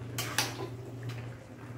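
Spoon or ladle clinking twice against a metal pot of boiling meat, then a faint scrape, over a low steady hum; brief and fairly quiet.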